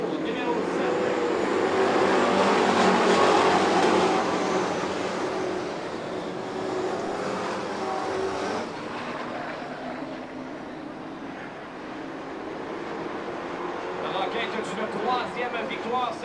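Pro Stock race cars lap the Autodrome Drummond circuit, their engines a steady, broad roar that swells and fades as they pass, with a commentator talking over them throughout.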